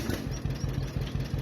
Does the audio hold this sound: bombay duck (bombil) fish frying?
no